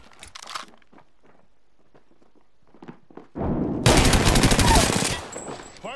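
Gunfire in the video game Apex Legends: after a few quiet clicks and effects, a loud sustained burst of rapid automatic fire roars for under two seconds, followed by scattered game sounds.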